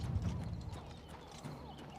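Horse hooves clip-clop at a steady walking rhythm in the video game Oblivion Remastered, moderately close, with a brief whinny-like tone mixed in and no talk over it.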